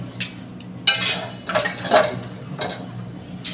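Glasses, dishes and cutlery clink and clatter during dishwashing, with several sharp, irregular knocks and rattles up close.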